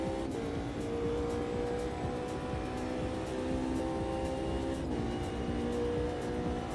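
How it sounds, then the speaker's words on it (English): Audi race cars roaring along in a sim racing game, a steady, loud engine drone with layered tones holding throughout, no speech. "These Audis are quick in a straight line"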